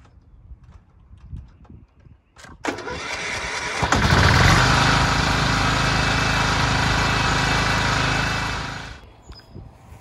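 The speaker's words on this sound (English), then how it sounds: "So I gotta mow it first." A lawn mower starts up with a sharp pull and sputter, then runs at a loud, steady engine drone cutting tall grass for about five seconds before the sound drops back.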